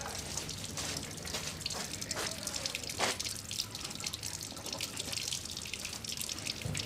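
Water runs steadily from a drinking-water tap at a school, a continuous hissing splash with small drip-like spatters, fairly faint and without speech.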